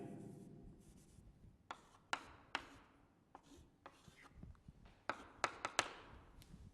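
Marker or chalk strokes on a board during a chemistry lesson, a faint scratchy run of taps and short scrapes in irregular bursts, quiet with no talking.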